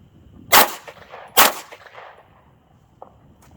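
Two sharp, loud gunshots from a 3D-printed Glock 17-pattern pistol with an extended magazine grip, fired about a second apart, followed by a faint metallic clink.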